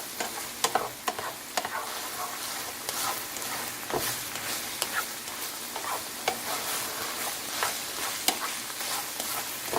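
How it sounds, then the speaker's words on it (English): Steady stirring and scraping in a pan holding a seasoned mixture, with soft sizzling underneath and sharp utensil knocks scattered throughout, continuous and fairly close with no talking. "Once I get that much in there, I stir it really quick to mix it in."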